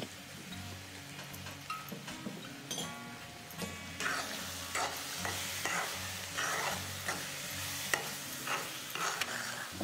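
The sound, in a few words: carrot halwa being stirred and fried in ghee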